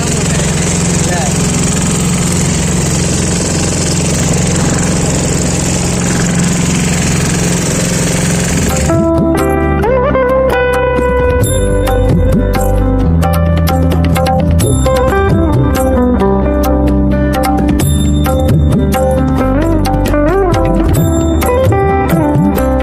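Engine of a boat crossing the river to Omkareshwar temple, a steady mid-pitched rumble that runs throughout; partway in, loud music with a strong beat starts and plays over the engine.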